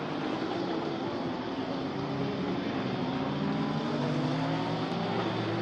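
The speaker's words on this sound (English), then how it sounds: "Very busy racetrack, great to see." GT race cars lap the Zolder circuit in a busy pack, a continuous blended engine roar with droning tones that rise and shift slightly, heard from a distance with no talk.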